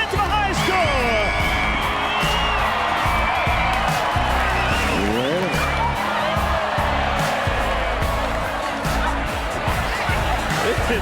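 A large crowd cheering, whooping and clapping loudly and continuously, with voices shouting over the din.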